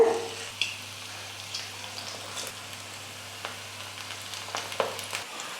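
Wheat flour and onion snack dough fries in oil over low heat, giving a quiet, steady sizzle with a few faint clinks, heard alone throughout.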